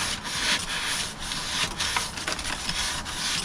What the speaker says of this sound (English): just to carefully scuff up the primer